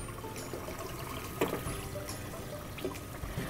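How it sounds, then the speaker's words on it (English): Fast-moving water from a small toy rushes over sediment and washes it away, a steady close trickling and pouring flow with a few brief splashy bursts. "The water is moving so fast."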